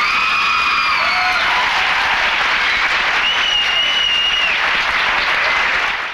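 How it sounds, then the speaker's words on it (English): A loud, sustained burst of audience applause and cheers for a performing family on stage, dense clapping filling the room with a few whoops and shouts rising over it. "let's hear a big round of applause for this fantastic family"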